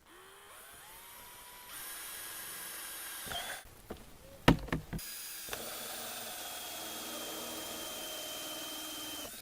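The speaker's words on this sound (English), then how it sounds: "be careful when drilling these holes" A power drill bores holes into a plastic mushroom mono tub: a whining motor spins up, then the bit bites the plastic with sharp grinding bursts and cracks before a steady high whir resumes, close and fairly quiet.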